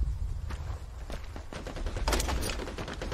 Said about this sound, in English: I don't know where they're shooting at.